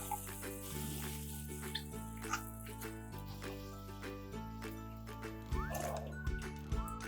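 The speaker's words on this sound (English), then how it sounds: "add the sugar and soy sauce." Sugar and soy sauce poured into a pot of simmering liquid, with faint trickling and dripping splashes and a light bubbling under steady background music, no voices.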